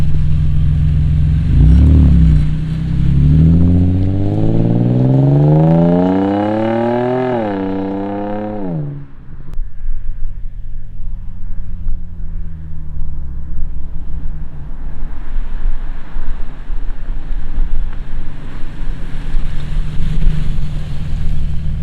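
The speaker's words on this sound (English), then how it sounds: "There's a sound test, a drive-by startup rev." Nissan G35 fitted with a Rev 9 catback exhaust starts up and revs loudly up and down in a rising, falling sweep close by, then settles into a deep idle with wind noise over the microphone.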